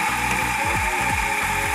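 A Nuova Simonelli MDJ espresso grinder runs steadily, grinding coffee beans with a loud continuous whir and repeated ratcheting, clicking strokes layered over the motor drone, close up and with no voices.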